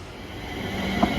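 London Northwestern Railway train passing, a rumbling rail roar with a faint wheel squeal that builds briefly, heard alone at moderate distance.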